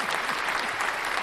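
Dense, steady audience applause, a continuous wash of many hands clapping at even loudness throughout the short moment.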